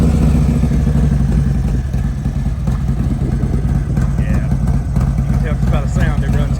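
A 2021 Harley-Davidson Road Glide Special motorcycle engine running close by with a loud, steady low rumble and some clatter, with a few faint voices over the top.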